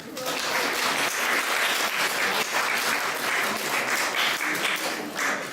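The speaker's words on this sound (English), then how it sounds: "Give her a clap." Audience at a morning gathering in the Black Country applauding the region's last woman chain maker: sustained, dense clapping from a sizeable crowd, loud and even throughout.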